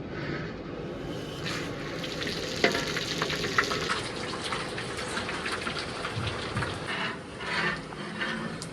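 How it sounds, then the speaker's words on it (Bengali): Bay leaf, panch phoron and whole dried chillies hit hot oil for tempering, giving a steady close sizzle and crackle with a few sharp pops, fairly quiet and without talk. "গরম হয়ে গেছে, এখন দেবো ফোড়ন। চলে আসুন। ফোড়নে তেজপাতা, পাঁচফোড়ন আর গোটা শুকনো লঙ্কা।"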